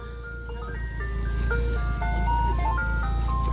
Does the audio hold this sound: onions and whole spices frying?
no